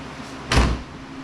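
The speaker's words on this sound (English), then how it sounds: "if the door shuts properly" A single solid thud as the cab door on a Polaris Ranger 1000 NorthStar Ultimate UTV swings shut, heard close up and alone against a quiet background.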